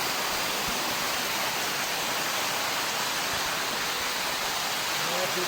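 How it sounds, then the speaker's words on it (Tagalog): Karugo Falls, a waterfall with bathers nearby, sends out a loud, constant broadband roar of rushing water that fills the whole moment, with faint voices mixed underneath. "Karugo Falls"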